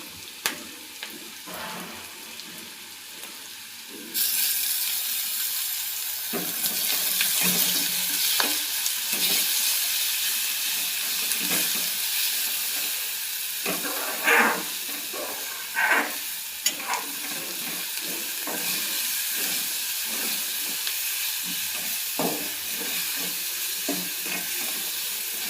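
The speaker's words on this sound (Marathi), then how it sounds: "हिरवी मिरची पण छान तेलात परतून घेतली" Green chillies and garlic sizzle and fry steadily in hot oil in a pan for an onion-based matki amti curry, with intermittent stirring clatter and a constant hiss that rises after the first few seconds, and no talking.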